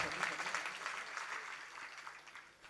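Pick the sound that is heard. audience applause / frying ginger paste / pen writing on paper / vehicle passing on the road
audience applause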